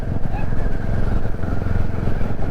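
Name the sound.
Royal Enfield Classic 350 motorcycle being ridden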